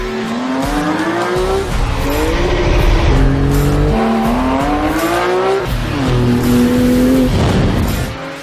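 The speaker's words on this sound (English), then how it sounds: "if you put the foot down on the floor, you immediately get a response from the car" A Porsche 911 GT2 RS engine revs hard and accelerates through repeated gear shifts, the pitch climbing and dropping again in a steady rising pattern.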